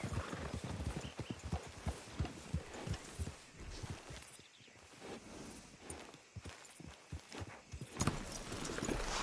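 Horses' hooves clip-clop at a walk in the Western video game Red Dead Redemption 2, a steady soft hoof rhythm with a brief lull midway and a faint snort or whinny.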